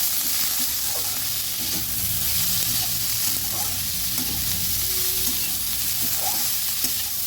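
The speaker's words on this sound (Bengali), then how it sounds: "ভালো করে নেড়ে দিচ্ছি" Potatoes with salt and turmeric stirred in a hot pan for pumpkin flower chorchori, a dense close sizzle running steadily with soft intermittent scrapes and clicks of the spatula.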